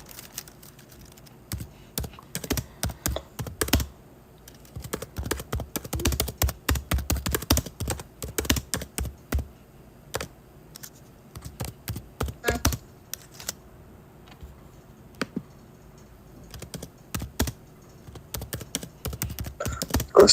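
Steady bursts of computer keyboard typing, close and fairly crisp, with short pauses between runs of keystrokes and no voices.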